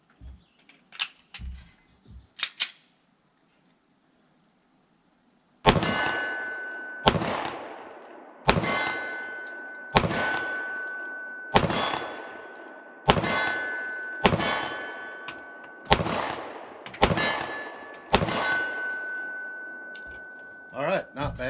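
A S&W Equalizer 9mm pistol fired at a 25-yard steel plate outdoors: after a few quiet knocks and a pause, about ten evenly spaced shots, each followed by a ringing metallic clang from the struck plate, loud and close.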